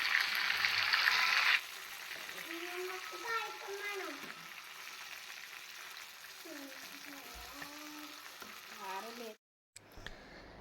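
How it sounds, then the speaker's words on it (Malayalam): Chicken fries in a pan with a constant close sizzle that bursts loudly at first, then continues under someone talking at length. "ഉച്ചക്കൊക്കെ കഴിക്കാനുള്ള ചിക്കനൊക്കെ വറുക്കാനിട്ട്"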